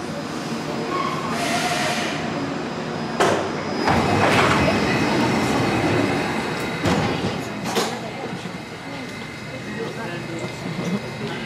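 A driverless metro train runs steadily, its broad rumble and rail noise filling the carriage with a few louder surges, while people talk over it.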